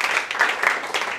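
A church congregation applauding and cheering in praise during a sermon, a brief, moderately loud wash of clapping and voices with no clear individual claps.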